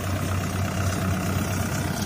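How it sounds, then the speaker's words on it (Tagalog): Farm tractor engine running in a rice field, a steady mid-level rumbling drone with no pauses. "napakalakas ang traktor ni Boss Adyong"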